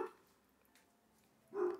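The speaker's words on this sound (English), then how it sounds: "Of course, my dog is barking." A pet dog in a home barks twice, once faintly at the start and once louder near the end, with quiet room tone in between.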